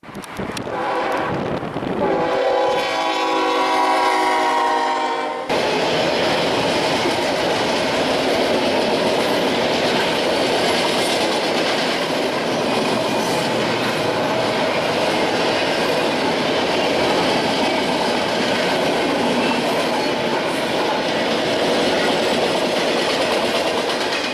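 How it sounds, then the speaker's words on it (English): Freight train 289 passes close by on the line between Hagerstown and Shenandoah, a loud, steady rumble and rattle of railcars. A brief horn blast sounds at the start before the cars roll past without a break. "once again intercepting train 289, this time with a fresh crew taking it from Hagerstown to Shenandoah."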